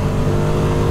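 Ducati Streetfighter V2 motorcycle engine held at a steady, loud drone for under a second, close and continuous with no audible talk.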